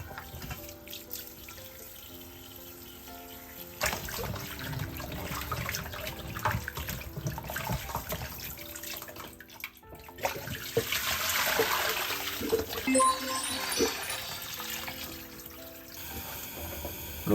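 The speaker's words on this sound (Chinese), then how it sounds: "然后把牛骨放入流动水中冲洗一下，这样可以把牛骨的粉末杂质洗干净" Beef bones rinsed under a running tap, a steady close stream of water splashing and gurgling continuously, swelling louder midway as the bones are moved through the flow.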